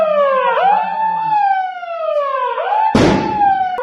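An emergency siren sounds for a mock drill in Hyderabad, a loud wailing tone sweeping up and down close by, followed by a sudden burst of broadband noise near the end.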